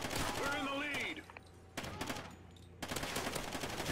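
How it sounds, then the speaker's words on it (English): Rifle gunfire in the video game Call of Duty Ghosts: loud bursts at the start and again near the end, with a quieter stretch between, mixed with game sounds and a speaking voice. "I don't know if he heard me shoot at him."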